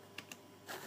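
The R key on a computer keyboard is pressed during 3D modeling work, giving two quick close clicks followed by a softer keystroke.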